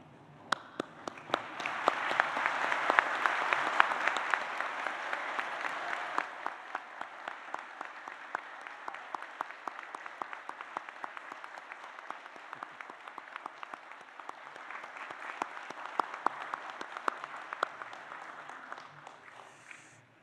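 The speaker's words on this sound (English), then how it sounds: "for everyone else to stand and join me in applauding the wonderful achievement of our graduates." A large audience at a University of Newcastle graduation ceremony in Australia applauds the graduates, with sustained, fairly distant clapping from many hands for about twenty seconds, swelling early, easing, then rising again before fading.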